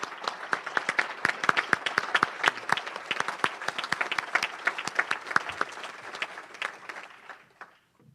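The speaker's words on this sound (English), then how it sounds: "And let's give them a round of applause." A small room of Rotary Club members claps for Rotary Scholar mentors, a lively burst of distinct individual claps that thins out and fades to silence after about seven seconds.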